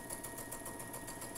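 A sewing machine stitches bat appliqués onto a quilt row, a steady fast mechanical whir running without pause, close and fairly quiet.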